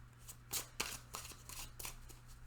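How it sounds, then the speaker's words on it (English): Tarot cards are shuffled in a series of quick riffling bursts, close and fairly soft, over a faint steady hum. "I'm going to shuffle these for just a second."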